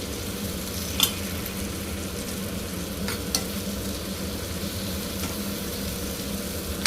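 Onions and tomatoes for tomato egg bhurji frying in a pan, a low steady sizzle with a couple of spoon knocks while being mixed, fairly faint and wordless.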